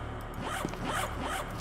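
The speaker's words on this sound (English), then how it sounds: "Yes! More zippers!" Zippers in the game SCP: Secret Laboratory are pulled repeatedly, giving several quick rising and falling zips in a steady rhythm. They are loud and close, with no speech.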